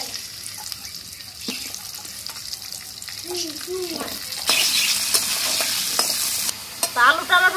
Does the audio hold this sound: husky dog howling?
no